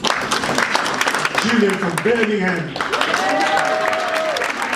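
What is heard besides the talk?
audience applause for silver builders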